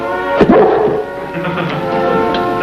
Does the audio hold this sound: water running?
no